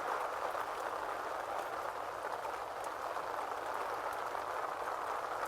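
Rain falls in a garden with a steady, fine hiss of drops on leaves and ground, soft and even throughout.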